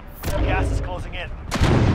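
Gunfire in Call of Duty: Warzone, with loud broadband bursts near the start and again toward the end, over steady game noise and voice-like sound.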